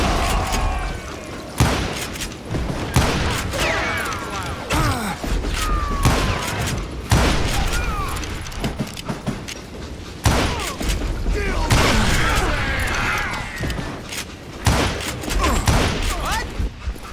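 Dense gunfire crackles and booms through a Call of Juarez Gunslinger shootout, rapid overlapping shots, ricochets and impacts packed across the whole stretch with hardly a pause, while characters shout over the battle.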